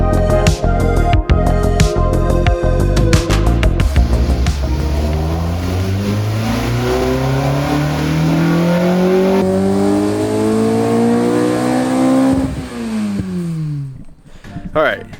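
A K-swapped Acura RSX engine revs hard and repeatedly outside the car, pitch climbing and dropping through loud, close acceleration sweeps, then easing off near the end.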